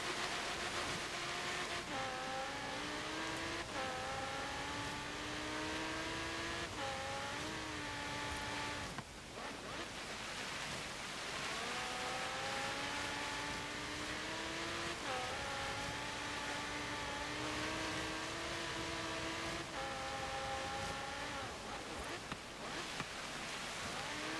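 A 2016 Audi R8 V10 plus in the racing game Forza Horizon 3 drives a snowy hill climb, its engine repeatedly revving up through gears with rising whines and brief shift drops, steady and loud.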